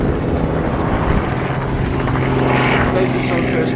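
A Sukhoi Su-26MX aerobatic propeller plane drones loudly and steadily through a flying display at the Volkel in de Wolken 2015 air show, its engine holding a constant tone throughout.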